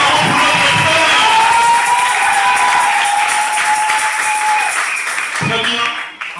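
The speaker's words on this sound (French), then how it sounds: "Nous acclamons pour notre frère." A church congregation cheers and applauds in a loud, sustained burst of clapping and shouting that fades away near the end.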